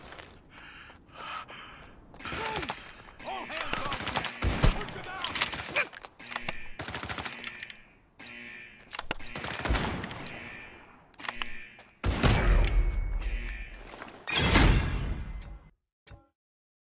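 Shotgun blasts go off in the Lost Light video game as sharp, loud bursts spread irregularly through the stretch, with gasps and breathing between shots and a sudden cut to silence at the end.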